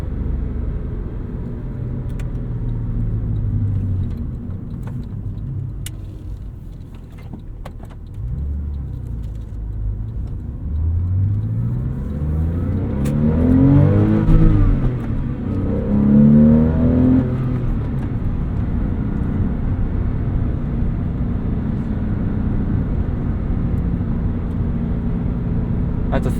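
A 2002 Porsche 911's flat-six engine revs up and holds a steady rumbling drone, with a rising, swelling rev partway through, close and continuous without talk.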